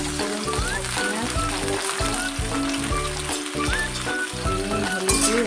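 Panch phoron and onion frying in hot oil for an okra and potato curry, a steady close sizzle and crackle running throughout beneath soft background music, with no break in the frying.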